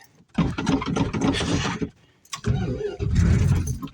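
A chokeless 1986 Dodge D-150 pickup engine being cranked on a cold start, two loud bursts of churning starter and engine noise separated by a brief pause, close and unaccompanied by talk.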